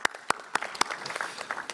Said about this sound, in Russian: даже аплодирую